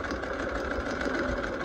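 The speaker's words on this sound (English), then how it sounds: "So I'm back stitching, stitching 5/8." A sewing machine runs steadily while back stitching a seam at a 5/8 allowance, its motor giving a constant close whirring hum with a fast mechanical chatter.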